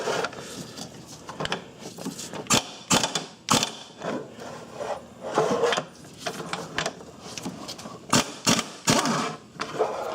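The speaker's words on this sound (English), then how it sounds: "So I'm going to be screwing these nuts off." An 18mm deep-well six-point socket on a ratchet works the engine mount nuts loose on a Ford Escape, giving repeated close bursts of sharp pawl clicking separated by short pauses.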